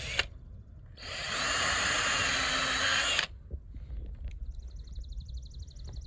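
Power drill pre-drilling holes for gate anchors on a deer fence around a fruit orchard, a loud steady whine running for about two seconds before cutting off, followed by quieter outdoor handling noises.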